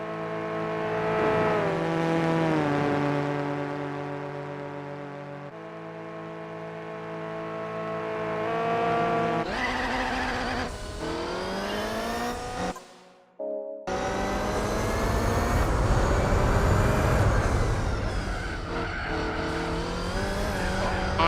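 A Le Mans prototype race car engine in Gran Turismo 4 screams and revs loud and high-pitched, pitch climbing and dropping through gear changes, cutting out briefly before roaring back up to speed.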